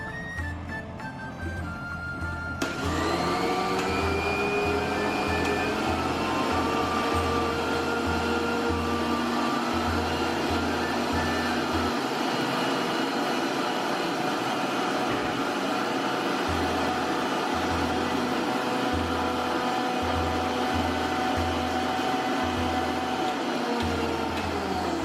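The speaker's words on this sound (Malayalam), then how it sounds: "ആവശ്യത്തിനുള്ള ഷുഗർ ചേർത്ത് നന്നായിട്ട് മിക്സിയിൽ അടിച്ചെടുക്കുക" An electric mixie blender whirs through a milkshake with sugar and flavouring, a loud steady motor drone that kicks in after a brief quiet moment and runs unbroken and close for over twenty seconds.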